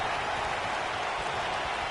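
Arena crowd in the WWE 2K19 wrestling video game, a steady dense roar of cheering and applause with no breaks, loud and constant throughout.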